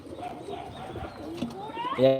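Pigeons coo softly in a loft with young squabs and adult birds, low murmuring calls under background noise, ending in a louder rising call.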